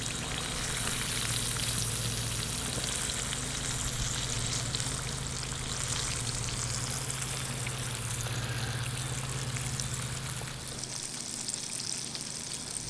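Battered green tomatoes frying in a pan of hot oil, with a loud, steady crackling sizzle filling the space close up, easing slightly near the end, and no talk over it.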